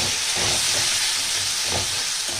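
Masala with salt fries in a pan for moong dal muri ghonto, giving a loud, steady close sizzle with faint stirring bumps underneath and no talk.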